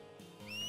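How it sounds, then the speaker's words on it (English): A short rising two-tone whistle from a character in the Final Fantasy X video game, starting clear and loud at the end of a brief stretch of quiet game ambience. "He just whistled."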